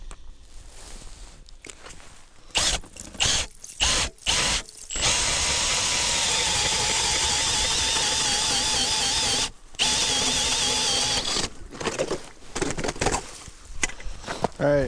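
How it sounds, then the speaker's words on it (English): A power ice auger drilling holes through frozen lake ice in midwinter Wisconsin, with a loud, close, sustained whining run broken by short revving bursts before and after. "Alright, so I just drilled 3 new holes."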